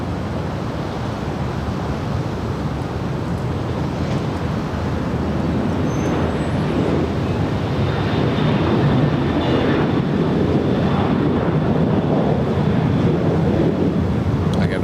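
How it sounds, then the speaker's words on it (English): A Southwest Boeing 737-700 arriving at LAX from Tucson produces a broad, rumbling roar that builds gradually and stays loud and sustained, a heavy rushing drone with no talk over it. "And this is WN 1410 coming in from Tucson. It's a 737 700."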